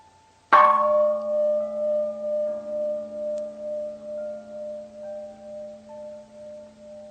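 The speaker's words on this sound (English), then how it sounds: "If you, for example, simply listen to the gong," A single gong strike rings out with a sharp attack, then a long sustained hum that slowly fades and gently pulses over several seconds, heard alone and close.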